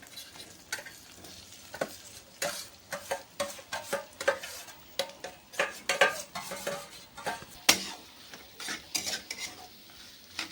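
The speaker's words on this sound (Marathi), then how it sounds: "हे खूप छान असं प्रकारे फ्राय करून घ्या" An aloo breakfast snack frying in a pan while a spatula stirs and scrapes it, loud rhythmic metallic scrapes and knocks repeating over a soft sizzle, close and uneven, with no speech.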